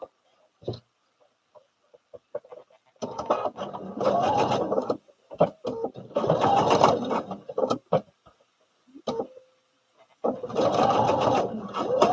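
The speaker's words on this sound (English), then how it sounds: "now I'm just gonna sew this piece here as I join that together" A sewing machine stitches fabric for a baby fall protection pillow in loud, steady whirring bursts of a few seconds each, separated by pauses with small clicks and handling noises close by.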